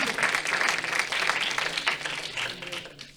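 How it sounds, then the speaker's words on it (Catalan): An audience at a Christmas event of monologues and prize-giving breaks into strong applause, a dense wash of many hands clapping at moderate distance, sustained for a few seconds before gradually thinning out. "Un fort aplaudiment."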